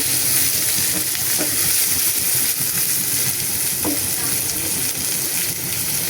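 Steady, close sizzling of mixed vegetables frying in a pan for curry, with occasional faint scrapes of stirring, continuous throughout with no talking.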